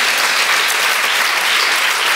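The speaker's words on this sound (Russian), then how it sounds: "бурные аплодисменты зрителей" A studio audience breaks into loud, dense applause, a continuous roar of many clapping hands filling the moment without pause and with no voices on top.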